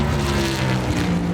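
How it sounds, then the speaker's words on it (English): Steady, loud droning roar of NASCAR race car engines at Daytona during qualifying, a continuous low hum with a thick, sustained buzz and no pauses. "It gets inside you, the sound of this engine."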